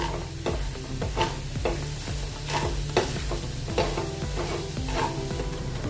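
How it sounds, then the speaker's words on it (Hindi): Gram flour (besan) roasting in a pan for masala bhindi, with steady sizzling and frying under rhythmic stirring scrapes of a spoon, close and continuous, with no voices. "अभी इसमें हम बेसन डालेंगे आधा कटोरी। अच्छे से इसको भी थोड़ा सा भून लेंगे।"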